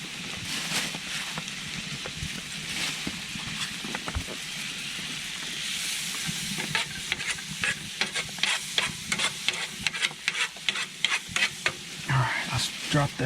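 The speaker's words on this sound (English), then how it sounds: "you can hear that butter sizzling." Butter sizzles and crackles in a pan over an outdoor campfire with a baked potato in the coals, a steady close frying hiss broken by scraping stirs and sharper pops.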